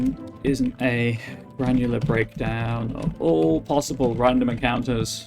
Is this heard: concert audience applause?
no